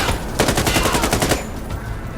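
Rapid automatic gunfire from the tactical shooter game Insurgency Sandstorm bursts out in a fast volley of about ten close, loud shots, then breaks off into quieter game ambience.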